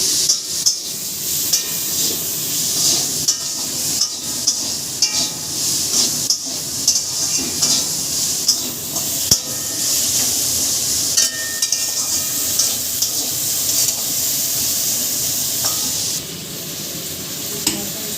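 Potatoes frying in a pan of hot oil, a steady loud sizzle with occasional stirring scrapes and clinks throughout, no voices.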